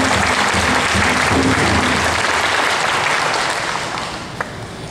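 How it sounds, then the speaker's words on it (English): Audience applause for school staff and coaches at an 8th grade promotion ceremony, a steady dense clapping from a large crowd that continues through, then thins and fades toward the end. "May we please have a round of applause for all of these adults"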